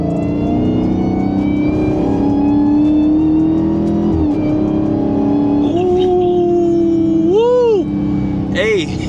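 A Dodge Charger Hellcat driving in Germany, its engine droning loud and close with a rising supercharger whine that swoops up and down under revs, heard from inside the car.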